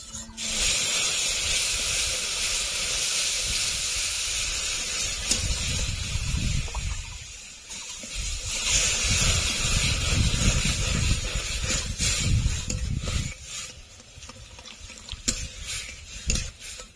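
Water poured into a hot pan of frying semolina, a loud steady hiss and sizzle with stirring scrapes that rises, dips briefly, then surges again.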